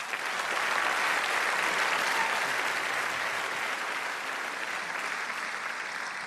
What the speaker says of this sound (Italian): Grazie per l'applauso che fate a queste canzoni